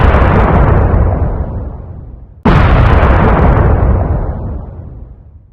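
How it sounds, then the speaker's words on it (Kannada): Two huge booming blasts of an atomic bomb test explosion, evoking the 1974 Pokhran test in Rajasthan. Each starts with a sharp onset and rumbles down into a long fading roar, with the second blast hitting midway through. "1974ರಲ್ಲಿ ರಾಜಸ್ಥಾನದ ಪೊಕ್ರಾನಿನಲ್ಲಿ ಮೊದಲ ಅಣು ಬಾಂಬ್ ಪರೀಕ್ಷೆ ನಡೆಯಿತು."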